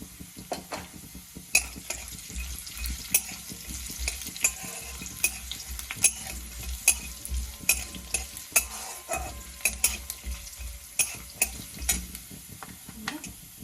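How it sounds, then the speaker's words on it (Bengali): Onion frying in oil in a pan for Bengali chirer polao, a steady close sizzle broken by regular sharp scrapes and clinks of a spoon stirring against the pan, with no talking. "আমি পেঁয়াজটাও এতে দিয়ে দিচ্ছি। পেঁয়াজটা একটু ভাজতে লাগবে।"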